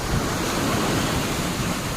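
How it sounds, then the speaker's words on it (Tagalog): Ocean waves strike a high seawall with a steady, dense roar of surf and spray, close and loud, with no talk over it. "ganito kataas ang hampas ng alon"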